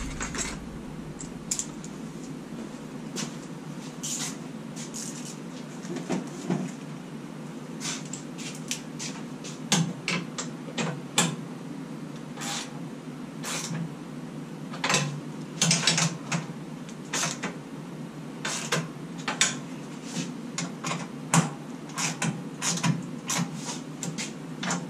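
Ratcheting and metallic clicking from a socket wrench during work on a Jeep TJ build, with irregular sharp ticks over a steady low background hum throughout.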